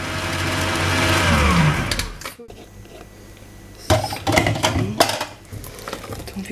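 An electric hand mixer whirs steadily as stiff whipped cream is folded into a yogurt mixture for a strawberry yogurt cream cake. The motor runs for about two seconds, then cuts out, followed by scattered clinks and bowl knocks.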